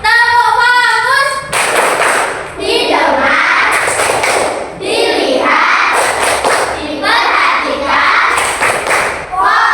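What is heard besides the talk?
class doing a rhythmic 'focus clap' together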